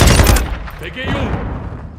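Close, loud bursts of gunfire in Call of Duty, an opening rapid volley that fades into ringing echoes and scattered shots under shouted voices.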